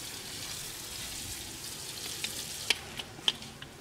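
Fish fries in a pan until golden, a soft steady sizzle broken near the end by a few sharp pops and crackles of spitting oil.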